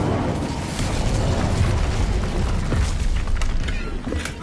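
A fire spell cast in the wizarding game Hogwarts Legacy: a loud, rumbling burst of flame, dense and sustained like a roaring explosion, with crackling texture running through its whole length.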